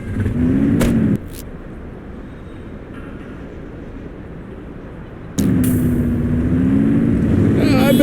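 Car engine rumbling and revving while driving slowly in the police game The Precinct, a steady low drone that swells louder at the start and again near the end, with voices talking over it.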